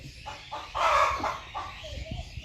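Newly hatched naked-neck chick, helped out of its shell, gives a few short chirps and clucks, with one louder burst in the middle, heard close up.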